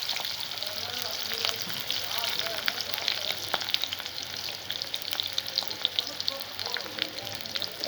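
Onions frying in oil in a pot give a steady, dense sizzle with crackles and pops. A voice talks faintly underneath.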